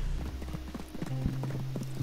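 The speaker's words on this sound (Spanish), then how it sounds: "llamamos al caballo, viene nuestro caballo" Horse hooves in Red Dead Redemption 2 clip-clop closer in a steady, fairly loud gait, with low droning tones running beneath.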